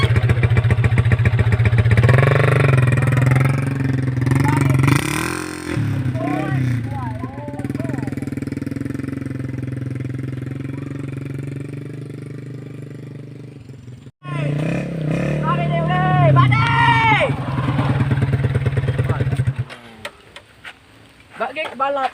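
A motorcycle engine buzzes and revs in rising and falling whines, close and loud at times, while several people chatter over it in a casual outdoor setting.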